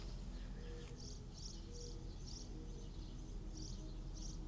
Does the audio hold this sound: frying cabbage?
no